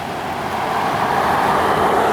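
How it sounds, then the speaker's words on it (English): A car passes on Highway 106 beside the Salish Sea shore in Union, Washington, a loud rising whoosh of road noise that swells toward the end. "you hear the whoosh of the car behind me"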